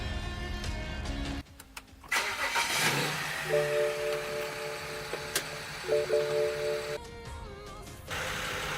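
BMW 335i with a single-turbo N54 engine and downpipe, keyless start: a short crank catches, then a steady idle settles in, close and moderately loud, with no voices.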